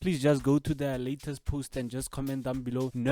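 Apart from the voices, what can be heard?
No everyday noise stands out behind the speech.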